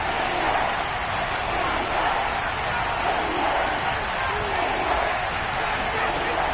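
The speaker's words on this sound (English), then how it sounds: "That just means this crowd's going to get even louder." Football stadium crowd roaring steadily before a New Orleans Saints third-and-goal play, a dense, loud wash of cheering with no breaks.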